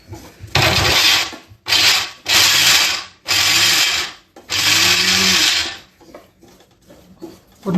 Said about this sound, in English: We'll blend this into a coarse paste for the kootu also.